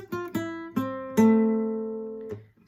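Clean guitar plays the intro of a song demo: a few picked notes, then a chord ringing out and slowly decaying, close and clear, with no voice.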